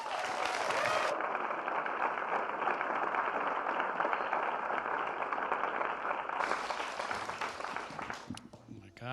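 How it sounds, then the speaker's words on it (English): A livestreamed CreativeMornings audience in New York applauds for Gary in a long, steady wash of clapping that stays loud and even for several seconds before trailing off at the end, with no talk over it. "So please give a rock star round of applause for Gary"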